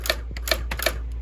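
Typing on a 1990s Brother Correctronic 360 electronic typewriter: three sharp, evenly spaced key strikes with softer mechanical clicks between them, close and clear over a steady low hum.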